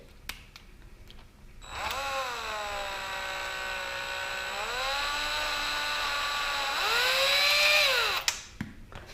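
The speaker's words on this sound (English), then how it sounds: "I'm using 5/8 socket wrench with a power drill." Power drill fitted with a 5/8 socket spinning loose a wheel nut on an eZip Trailz electric bike: a steady whirring motor whine that rises and dips in pitch over several seconds, close and loud, ending abruptly.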